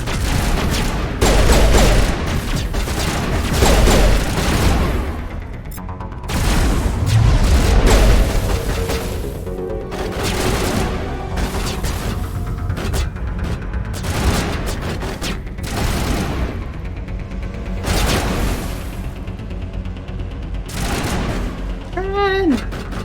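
Rapid bursts of video game gunfire from Mass Effect: Legendary Edition, with heavy booming volleys and fusillades throughout, loud and close, mixed with in-game voices and effects.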